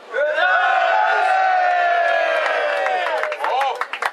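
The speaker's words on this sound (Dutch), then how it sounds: "Oh, dat applaus is mijn eerste, jongens" A crowd at a stage performance cheers and claps, with loud sustained whooping and shouting voices that swell together, while scattered claps rise near the end.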